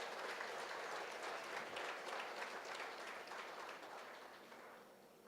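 An audience at a college freshers day applauds their parents with dense, sustained clapping that fills the hall and slowly fades toward the end, with no talking over it.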